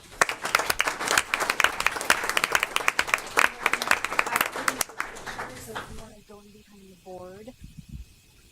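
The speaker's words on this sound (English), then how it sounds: "So please give one more round of applause." A board meeting audience gives a round of applause, dense clapping for about five seconds before fading, then a voice speaks over the tail end.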